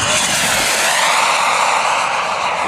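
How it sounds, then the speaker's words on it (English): A jet aircraft makes a low, fast pass in a flight simulator game, heard as a loud, steady engine roar that swells slightly and holds throughout. "And for a nice low, fast pass."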